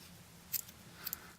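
Scissors snip through crochet yarn after finishing a granny square, giving two quick, crisp close-up cuts over quiet room noise.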